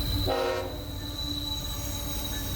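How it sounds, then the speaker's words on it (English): Passing train in Sykesville, Maryland: a loud horn blast at the start, then steady rumbling and rolling of the cars continuing close by. "see a passing train"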